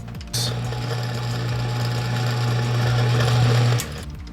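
A drill press motor with a tube notcher mounted whirs up abruptly, holds a steady hum for a few seconds, then cuts off.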